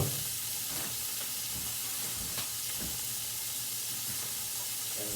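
Onions frying in a pan for Japanese beef curry give a steady close sizzle and hiss, with occasional stirring knocks and scrapes breaking through the constant frying noise.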